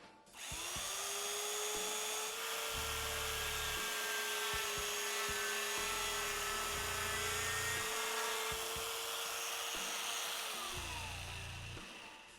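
A domino joiner alternative doweling tool runs at a steady loud whine while plunging dowel holes into wood, with several plunges marked by brief low-pitched bursts over about twelve seconds and no talking.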